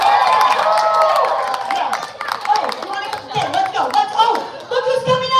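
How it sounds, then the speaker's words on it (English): Audience at a live charity dance event clapping and cheering, a burst of whoops and applause that settles into scattered claps and shouts, loud and close, with voices calling out over it. "cheer her on."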